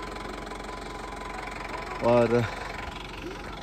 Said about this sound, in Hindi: ये है हमारी गाड़ी जिसमें हम 10 लोग जाने वाले हैं, और मेरे ख्याल से इंजन गर्म कर रहे हैं